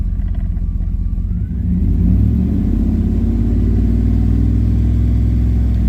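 The 2007 Dodge Ram 1500 HEMI pickup truck's V8 engine running after a coolant temperature sensor replacement: a loud, close, steady low rumble that swells slightly as it picks up early on, then holds an even idle.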